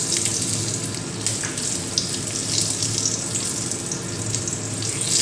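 Bay leaf pieces and panch phoron spices sizzling in a little hot oil, a close, steady hissing crackle that runs unbroken and without talk.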